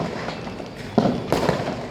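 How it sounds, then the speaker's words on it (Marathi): Diwali fireworks and firecrackers go off around a terrace, with a steady distant crackle and a couple of sharper booming bursts close together near the end. "बघा ही दिवाळीची आतसबाजी"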